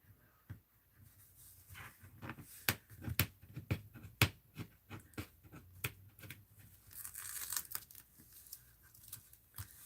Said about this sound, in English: Take the paper off first.